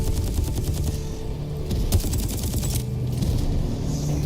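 Rapid gunfire from the tactical shooter game Exoborne, with dense bursts and repeated shots running continuously at close range, layered with combat effects and no talk.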